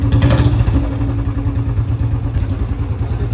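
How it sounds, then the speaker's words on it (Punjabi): A Royal Enfield Bullet BS6 motorcycle engine runs steadily after a service, a loud close thumping idle with an even low rumble and light mechanical clatter throughout, with no talking. "ਚਲੋ ਵੀ ਮਤਲਬ ਬੁਲਟ ਦੀ ਆਵਾਜ਼ ਆਪਣੀ ਬਹੁਤ ਹੱਦ ਤੱਕ ਜਮੇ ਠੀਕ ਹੋ ਗਈ ਲਗਭਗ"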